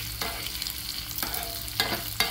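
A sambar spice mixture sautéing in a pan on a gas stove gives a steady low sizzle, broken by a few louder scraping stirs, heard close and alone.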